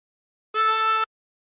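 Tremolo harmonica with 24 holes, drawn in at hole 6: a single short, steady, reedy note, close and clear, with silence before and after.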